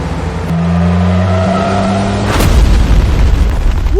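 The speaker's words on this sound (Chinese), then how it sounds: "刚刚山上有爆炸声，有人炸了山体。" A drama sound effect of an explosion blasting a mountainside along a road: a sustained engine-like hum breaks into a heavy boom with a long, rough rumbling tail, loud and without talk.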